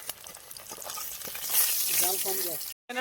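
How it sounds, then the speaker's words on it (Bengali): Fish frying crisp in oil over an outdoor village fire, a steady sizzle with stirring scrapes, a louder burst midway and a brief dropout near the end. "ভালো করে মাছটা ভেজে নিয়েছি কড়া করে মাছটা আমরা উঠিয়ে নেবো"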